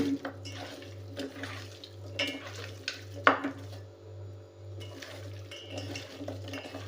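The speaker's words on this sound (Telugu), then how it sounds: "ఒక హాఫ్ టేబుల్ స్పూన్ సాల్టు వేసుకొని వీటిని బాగా ఈ విధంగా కలపండి" Bare hands work country chicken pieces with salt and turmeric, giving soft wet squelches and occasional clinks against the bowl, close by with no talking.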